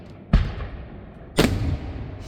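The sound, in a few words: fireworks exploding overhead at a parade of lights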